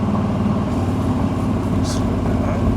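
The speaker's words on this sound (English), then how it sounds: "Revving it up a little bit." A 1968 Camaro engine runs in third gear with a steady, loud, close-up drone and rumble that holds throughout without pauses.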